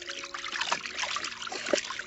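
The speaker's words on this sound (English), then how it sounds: "Fold it in two again, and then squeeze the water out." A hand-washed bed sheet wrung out by hand, water trickling and dribbling steadily with a few small splashes, close and moderately loud with no talking.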